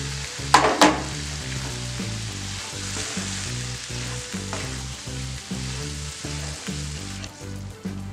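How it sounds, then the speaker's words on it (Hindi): Chickpeas and masala roasting in a pan for chana masala, a steady close sizzle with regular scraping stir strokes and a couple of sharp clinks near the start, no voices. "पांच मिनट के लिए हम इसको इसी तरह से रोस्ट करेंगे, इसके बीच में पकाएंगे ताकि मसाला अच्छी तरह से मिक्स हो जाए।"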